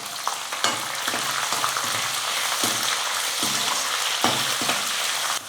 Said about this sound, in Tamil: எல்லாம் சேர்த்து நல்லா வறுத்துக்கலாம்.